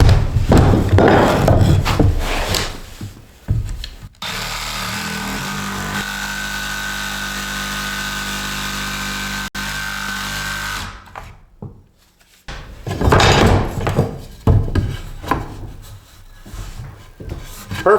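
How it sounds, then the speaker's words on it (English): A power tool notches a 2x4 wood stud during a salvaged mobile home rebuild, a steady whining cut of about six seconds set between bursts of close knocking, scraping and handling of the wood. "I'm getting this 2x4 notched out"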